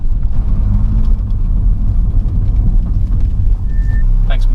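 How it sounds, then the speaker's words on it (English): A supercharged 216 bhp modified Ford Focus drives along a road, its steady engine rumble and road noise filling the cabin continuously and loudly. "Now let's find a nice bit of road and see what this car really,"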